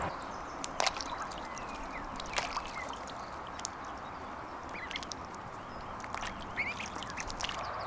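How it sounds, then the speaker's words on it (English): Ducks quack in short scattered bursts beside a moored narrowboat over a constant watery background, fairly close, with no speech. "Some ducks have just joined me."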